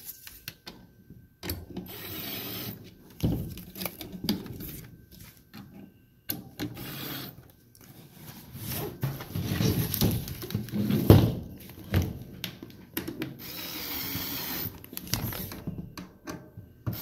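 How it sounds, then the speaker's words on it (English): A small screwdriver fitted with an Allen bit turns to tension the draw bar on a GoccoPro screen-printing frame, giving soft intermittent clicks, ratcheting and faint knocks close by, with no speech. "We're using a small screwdriver with a Allen bit."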